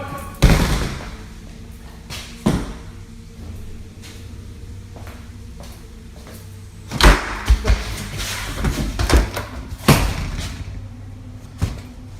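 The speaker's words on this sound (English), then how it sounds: "The basement door slams shut behind him." A basement door slams shut with a loud, sharp thud, followed by further bangs and rattling knocks as the door is yanked around, set within a quiet room with a low steady hum underneath.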